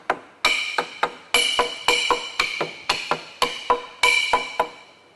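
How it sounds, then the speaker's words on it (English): A hammer taps bolts and a hub into a propeller on a bench. A dozen or so sharp, ringing metallic taps come close and clear, singly and in pairs, each leaving a brief ring. "the hub has to be tapped in the last half inch or so"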